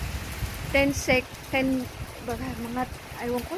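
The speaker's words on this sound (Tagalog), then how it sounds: "bigla siyang bumuhos ang malakas na ulan na wala namang badya" Sudden heavy rain pours down outdoors, a steady broadband hiss under people talking close by throughout.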